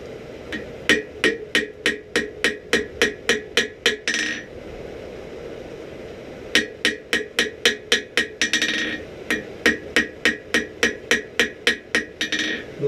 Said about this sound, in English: You have to hammer yourself a flat spot in it